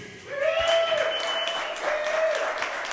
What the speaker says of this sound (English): Let's give a round of applause for the Fierce.